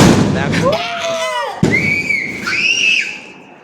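Firecrackers go off outdoors with whistling, rising tones and a sharp bang in the middle, fairly loud and close, while people talk.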